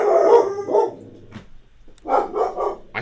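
Dogs bark in short bursts nearby, a couple of loud barks, a pause, then a quick run of three more.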